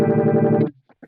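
A guitar chord through a univibe modulation effect on a Kemper Profiler swirls with a pulsing wobble for under a second, then cuts off, followed by a faint brief voice.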